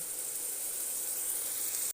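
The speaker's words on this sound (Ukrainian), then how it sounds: "Тим часом я вже на пательні смажую цибульку." Onion sizzles in a frying pan while a rice and meat soup is being made, a quiet, steady hiss without a break.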